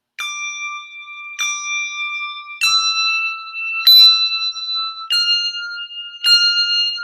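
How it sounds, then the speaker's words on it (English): Two handbells struck together in four-in-hand technique, six clear bright rings at a steady spacing of a bit over a second, each with a ringing sustained tone that carries into the next, close and alone with no talk. "get those two bells ring at the same time"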